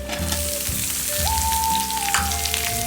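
Small onions and green chilies fry in a pan while a lightly crushed mix cooks for a horse gram tamarind curry, giving a steady, close sizzle with occasional stirring and a brief tonal whine.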